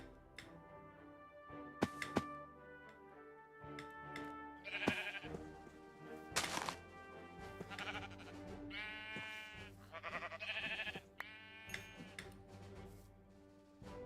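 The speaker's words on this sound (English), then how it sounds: "I'm just gonna quickly strangle a couple of sheeps." Sheep in a Minecraft GregTech New Horizons modpack world bleat several times in short, separate bursts over background game music.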